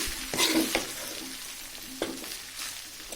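Carrot and beans fried rice being stirred in a pan, vegetables and rice mixed together with a few distinct scraping strokes over a low steady sizzle, close and alone with no voices.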